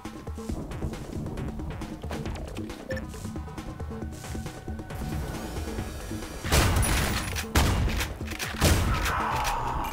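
Rapid gunfire from the shooter game Ion Fury, dense bursts of shots layered over game music, with louder blasts near the end.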